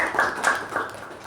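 An audience at a Toastmasters club meeting claps in a short, soft round of applause, several overlapping claps over about a second.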